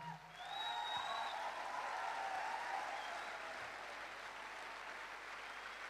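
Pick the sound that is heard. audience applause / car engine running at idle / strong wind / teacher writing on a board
audience applause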